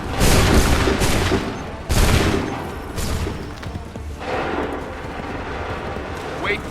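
Loud musket volleys ring out in a battle in the video game Assassin's Creed III, with several sharp, booming discharges in quick succession near the start and more ragged shots after, over a continuous rumble of battlefield noise.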